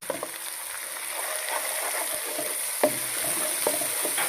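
Ginger, garlic and green chili paste sizzle softly and steadily in a pan, with a few stirring clicks and one sharper tap, heard close.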